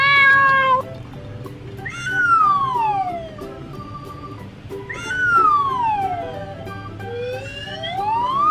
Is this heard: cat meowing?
yes